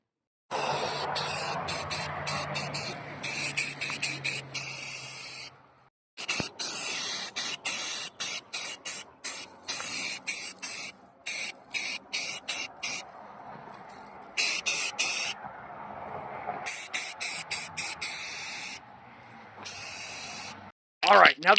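Satin Poppy Red spray paint hissing onto a bicycle frame in repeated short bursts with brief pauses between, fairly close, with a bit of talk early on.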